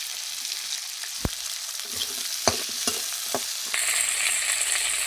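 Green beans and potatoes frying in a pan while being stirred: a constant hiss of sizzling oil broken by several crisp scraping knocks of a spatula, the frying growing louder toward the end, with no voices.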